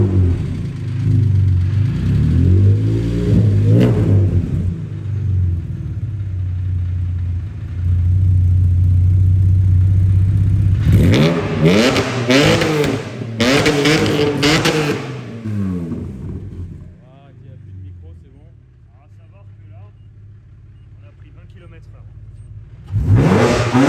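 Warm Renault car engine revved up to 7000 rpm while raised on a lift in a workshop, loud rising and falling revs in several bursts with steady idling between, people talking over parts.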